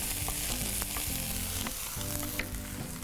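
Shallots and roughly chopped garlic sizzle steadily in olive oil in a pan, a continuous close frying hiss with a few light stirring scrapes and no voices.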